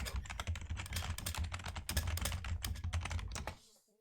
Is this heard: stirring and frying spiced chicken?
no